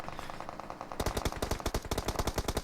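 Gunfire in the mobile battle royale game PUBG Mobile during a pro championship match: after a short quieter stretch, rapid bursts of loud automatic shots crack out in quick irregular succession, close and dominant.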